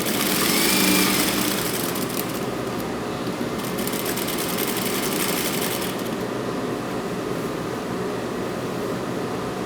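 A sewing machine stitching the skirt of a printed child's dress runs in one continuous close, steady mechanical whir without pause.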